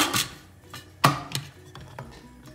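A Thermomix chops parsley, garlic and olive oil at speed 6, heard as a few sharp knocks and clatters against a quiet background, with one louder hit near the middle.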